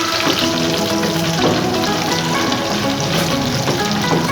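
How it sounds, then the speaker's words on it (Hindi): Green chillies sauté in a pan of gravy for Pakistani chikar cholay, a loud, dense, continuous sizzle and spatter that never lets up. "ये जो हमने ग्रेवी निकाल के रखी थी उसमें हम हरी मिर्चें थोड़ी सी सौते करेंगे"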